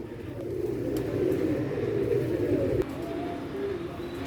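Pigeons kept in rooftop cages coo steadily, a low rolling murmur from several birds that carries on with a faint background hum and one brief knock.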